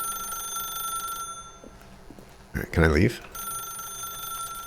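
A telephone rings with a steady electronic tone in The Stanley Parable, continuous at first, then cut off while someone speaks briefly, before the ringing resumes.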